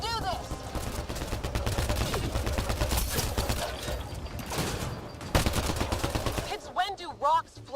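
Dense, continuous gunfire from the video game Mass Effect: Andromeda, with rapid automatic bursts and heavy blasts layered together, loud and close, as voices call out over the shooting.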